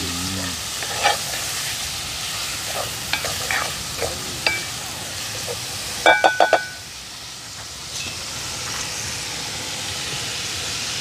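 Seasonings sautéing in a pan outdoors by a spring, a soft continuous sizzle with scattered sharp clinks and a quick burst of metallic taps from a utensil, close and without talk.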